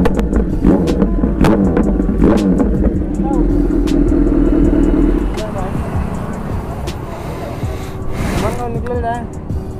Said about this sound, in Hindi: अभी पूरा पटाखा दे रहा है गाड़ी इनका, एकदम एक नंबर पूरा फ्लेम के साथ